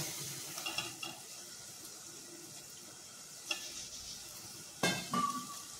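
Finely chopped potatoes being stir-fried in a pan over a low flame give a faint, soft sizzle. Occasional scraping and light clinks of a utensil against the pan break through, and no voices are heard.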